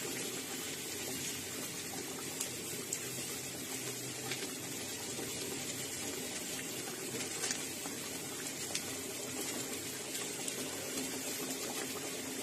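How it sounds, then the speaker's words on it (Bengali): Hot water poured steadily into a pan of katla fish cooking for doi katla, a continuous hissing, bubbling liquid stream that runs throughout without a break. "সামান্য পরিমাণে গরম জল অ্যাড করে দেব"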